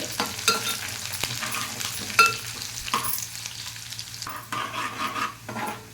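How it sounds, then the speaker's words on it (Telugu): Ridge gourd pieces fry with cumin in a pan, giving a continuous close sizzle with scraping and stirring of a utensil against the metal and occasional light clinks. "ఈ బీరకాయ ఇలాగ ఇందులో ఫ్రై చేస్తాను చూడండి"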